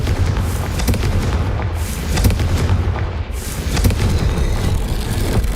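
A Confringo fire spell blasting in Hogwarts Legacy, a loud, dense barrage of booming explosions with repeated sharp bursts rolling over a constant low rumble for several seconds.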